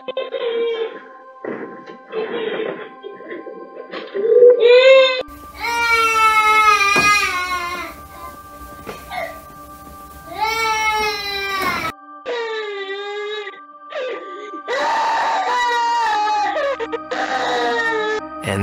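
Two young children wail and cry in distress at night at home, long drawn-out sobbing and screaming cries rising and falling in bursts, loud and close, with short pauses between.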